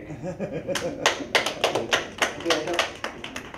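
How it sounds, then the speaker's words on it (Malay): An audience at a Malay poetry forum applauds a guest, Datuk Wahab, with a short burst of scattered, fairly close hand claps that comes in irregular bunches. "Satu tepukan kepada Datuk Wahab."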